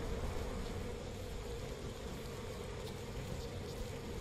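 Bees buzz near a nest in the video game We Happy Few, a constant dense insect drone that stays fairly faint and steady with no pauses and no talking over it.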